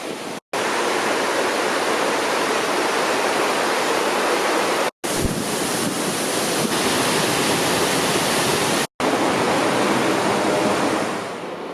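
Waterfalls along the Cascades path near Cauterets in the Hautes-Pyrénées roar as dense, continuous rushing water, loud and steady throughout with no voices.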